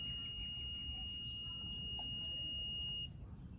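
A multimeter held across an oxygen sensor's heater circuit sounds a steady, thin, high continuity beep for about three seconds over a low background hum, then cuts off.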